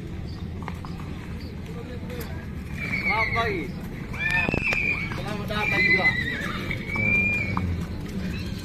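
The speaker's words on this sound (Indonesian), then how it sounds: "datang lagi segerombolan kuda dengku" A herd of large horses arrives at the Tolo horse market amid a lively crowd, with several loud whinnies and neighs ringing out over hoof clatter and constant excited chatter and shouting nearby.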